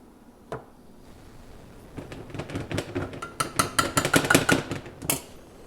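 A large pan is set on a stovetop and butter is handled before making pancakes, bringing a sharp metallic clunk followed by a run of quick clinks and knocks that grow busier and louder.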